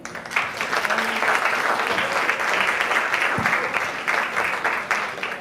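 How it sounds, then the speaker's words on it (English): A full room of audience applauds a Breast Cancer UK speaker coming up to talk; steady, dense clapping sustained for several seconds, with a few stray noises within it. "give them a round of applause"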